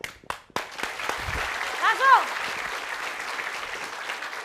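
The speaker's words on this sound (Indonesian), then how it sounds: "Kita tepuk tangan dulu ya." Studio audience applause on a comedy game show, a steady wash of clapping under a host's talk, with a few sharp hits near the start and a brief sung or whistled tone midway.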